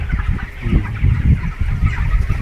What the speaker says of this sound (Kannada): ಇವು ಬ್ರಾಯ್ಲರ್ ಕೋಳಿ ಇವೆ ಸರ್.